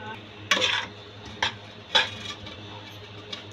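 A spoon scrapes and clinks against a bowl as salt and cumin are stirred into yogurt, with a few sharp taps spaced irregularly over a low steady hum in a home kitchen.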